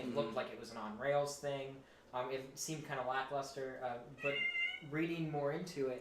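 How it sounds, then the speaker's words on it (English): A needy house cat meows during a gaming and VR podcast, its cries mixed in with and partly under a man's close-up talk. "So if you hear any meowing or just random jingles"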